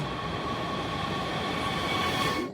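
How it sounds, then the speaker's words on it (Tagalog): Steady rumble and rattle inside a moving passenger train heading to Potsdam near Berlin, with a faint tonal hum from the carriage, continuous until it fades briefly at the end. "ito nakasakay na tayo ng train papuntang Potsdam"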